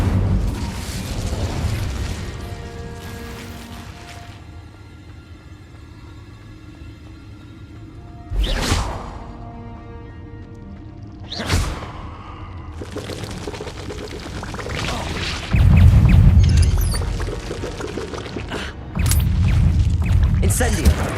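Incendio fire spell blasts in the Hogwarts Legacy video game, several sudden bursts and booms over a continuous low roar and background music, with spoken voices throughout.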